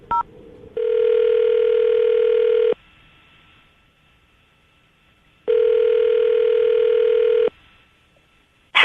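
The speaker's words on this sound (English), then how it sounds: "I'm going to dial the phone number right now, see if we can get her on the phone" A telephone tone sounds in two long steady bursts with a pause between, bracketed by short dialing beeps.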